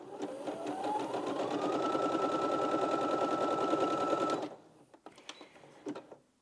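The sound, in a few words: Brother Innov-is 15 sewing machine stitching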